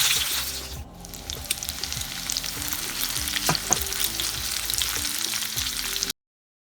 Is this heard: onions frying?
yes